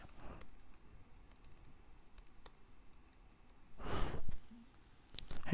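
Keys clatter on a computer keyboard as text is entered into a JavaFX app built with Scene Builder, light clicks scattered at a low level with a louder burst of rapid strokes near the end.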